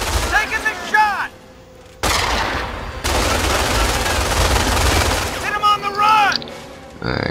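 Machine gun and sniper fire in Company of Heroes: dense, loud automatic bursts and sharp rifle cracks, close by, mixed with shouted in-game unit voices.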